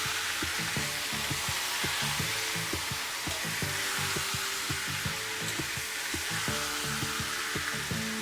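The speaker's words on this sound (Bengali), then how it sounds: "এবার আমরা এটাকে যতক্ষণ না মাংসটা হোয়াইট কালার চলে আসছে আমরা রান্না করতে থাকবো" Mutton pieces fry in a pan for Bengali-style korma, giving off a loud, steady sizzle with bursts of crackle and occasional stirring scrapes, close up and with no talk.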